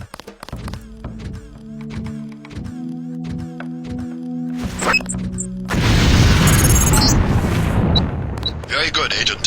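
A detonated mine explodes in the Deus Ex demolitions training area, giving a loud, sustained broadband roar after a stretch of low droning tones and a few thumps.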